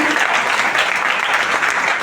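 Church congregation clapping loudly together during a worship service, a dense continuous burst of applause throughout with faint voices mixed in.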